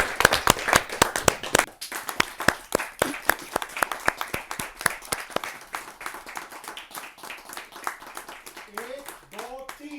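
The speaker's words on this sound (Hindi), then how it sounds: "ताली के साथ उनका स्वागत।" Audience claps to welcome a poet at a Hindi poetry gathering, starting as strong applause and thinning to scattered claps, with a voice briefly emerging near the end.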